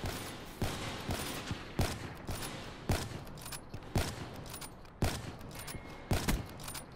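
Gunfire in a quickscope match of a first-person shooter video game: a steady series of about nine sharp shots roughly one second apart, fairly quiet and heard over a faint background.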